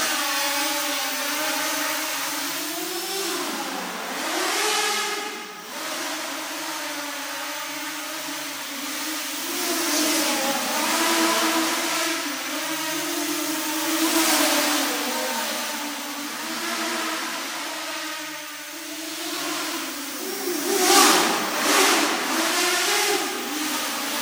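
Armattan M230 FPV quadcopter flying, its motors giving a loud, continuous whining buzz that rises and falls in pitch with throttle changes, no voices.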